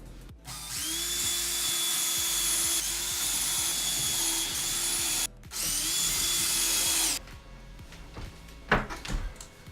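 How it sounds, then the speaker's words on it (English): A power drill bores pilot holes into 2x4 wall studs indoors, running in two long loud whining bursts with a short gap between them, then a brief clatter at the end. "next up, pilot holes for the 2x4s"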